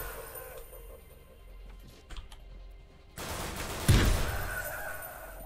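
Gunfire in the fast-paced shooter Severed Steel: a quiet stretch with faint clicks, then a dense burst of shots with one heavy boom near the end, loud and close, with no talking.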